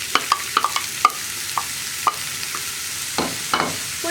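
Finely chopped ginger frying in hot coconut oil for puli inji, stirred with a utensil that taps and scrapes the pan in sharp, irregular clicks over a soft sizzle, with no talking.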